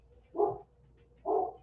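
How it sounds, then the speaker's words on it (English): Two separate dog barks about a second apart, fairly close and clear over a quiet background. "I don't know if you can hear the dogs barking"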